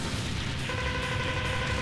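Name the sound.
explosions in the video game Mega Man X4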